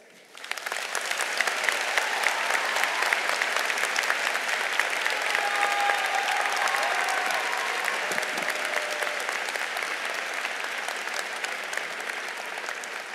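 Applause from the audience at a Hofstra University undergraduate commencement rises suddenly and holds as a dense, steady clapping from a large crowd, tapering only slightly over thirteen seconds.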